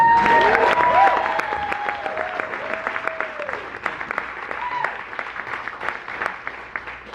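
A crowd applauds loudly at first, then the clapping thins and settles into a steady patter, with a few faint voices mixed in.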